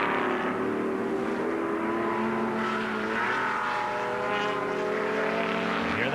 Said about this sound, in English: Hear that V12.